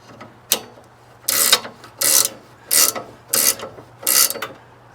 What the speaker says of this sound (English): And I even have a gear wrench.